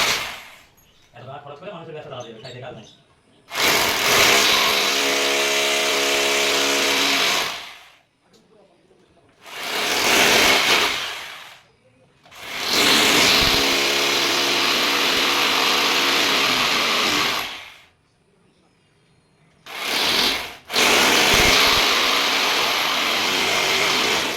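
A drill bores holes into a wall to mount the plate for a Voltas 3-star inverter split AC. Four long, loud, whining bursts lasting several seconds each are separated by short quiet pauses.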